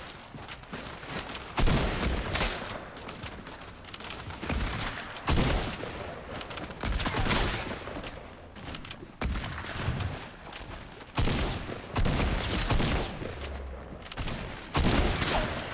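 Dense video game gunfire, rapid bursts and overlapping shots firing almost continuously at close range, with loud surges every couple of seconds and no clear talk.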